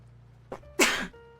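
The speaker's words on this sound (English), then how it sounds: "Also, I sneezed." A single person sneezes once, a short sharp burst preceded by a faint inhale, close and fairly loud in a quiet room.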